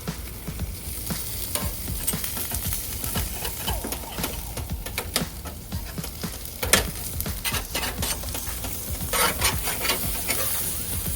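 Chicken cooking on a backyard barbecue grill heated to 500 degrees sizzles and spits steadily, with frequent sharp pops and crackles over a continuous frying hiss, close and fairly quiet, no voices.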